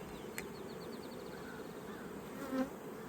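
Steady, low buzzing of many honey bees in an open hive during an inspection, a continuous close drone with a few brief louder passes near the end.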